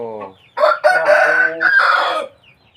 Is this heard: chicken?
yes